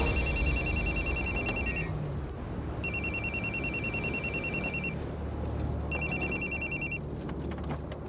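A telephone rings at home in three electronic bursts with brief pauses between them, loud and close over a low background hum, with no talking.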